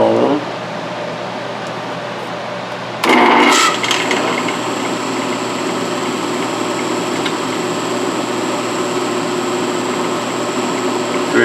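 A drill bit bores into a stainless steel landing gear strut for an A-4, a steady loud grinding whine over constant workshop machinery hum, starting with a sharp burst of contact.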